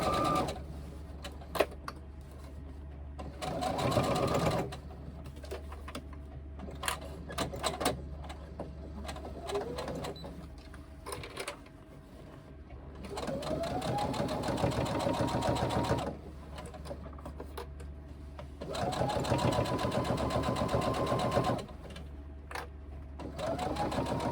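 A sewing machine runs in several long bursts with short pauses, its motor whirring and rising in pitch each time it speeds up, while stitching a seam around a folded reversible tote bag.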